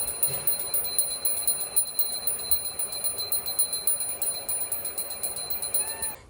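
A small metal temple bell rings rapidly and steadily, its bright high tones striking in a fast, even rhythm close by throughout.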